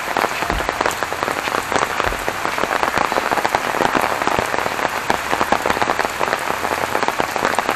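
Steady rain falls outdoors in the early evening, a dense even patter of drops on surfaces holding at a constant moderate level throughout, with no voices.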